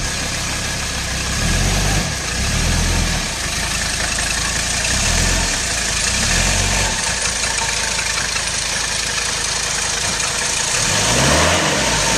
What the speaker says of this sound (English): I'm going to back the car up, show you I'm actually doing it.